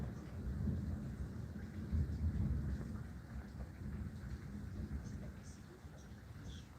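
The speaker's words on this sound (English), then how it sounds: "Thunder, lightning." Rain falling steadily outdoors, with a low, rolling rumble of thunder underneath, heard as a continuous soft wash from some distance.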